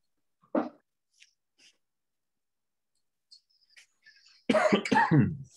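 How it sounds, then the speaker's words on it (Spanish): A single sharp cough, some faint small noises in near silence, then a burst of harsh, rapid coughing close by, from a radio host. "me agarró ahorita el ataque de tos"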